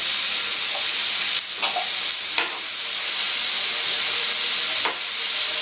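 Cut carrots and beans sautéing with salt in a pan for veg spring rolls, a loud steady sizzling hiss with a few sharp stirring scrapes, with no talk.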